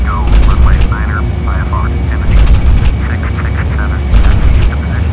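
Four engines of a PMDG Boeing 747-400 at takeoff power in Flight Simulator X, departing Princess Juliana International Airport runway 10, a loud steady roar with high whine, while synthetic cockpit callout voices chime in repeatedly.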